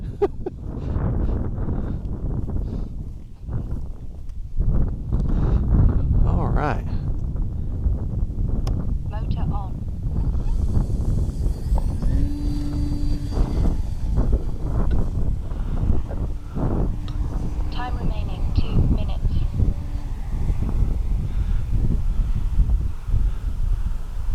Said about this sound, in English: it's starting to get kind of windy